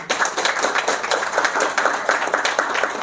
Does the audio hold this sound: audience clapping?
yes